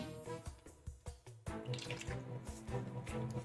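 Water runs from a tap in the Dragon Ball Z Kakarot video game, a faint steady trickle with soft splashes and drips, alone and quiet.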